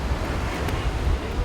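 Ocean surf washes onto a Florida beach in a steady, broad rush of breaking water mixed with wind buffeting the microphone, continuous and fairly close with no voices.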